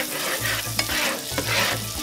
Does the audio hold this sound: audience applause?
no